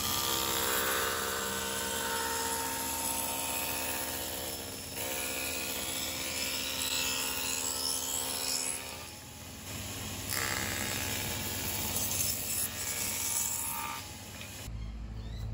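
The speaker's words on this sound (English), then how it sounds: "just using the table saw and taking several cuts" A table saw running and making several cuts in wood for a picture frame backer board: a continuous, loud, whining mechanical drone with steady ringing overtones that shift slightly as the blade works.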